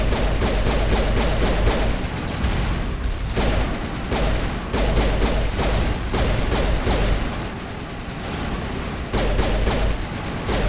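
A turret in Mass Effect fires in a steady, loud, rapid rhythm of mechanical shots, with short pauses between bursts and booming impacts underneath.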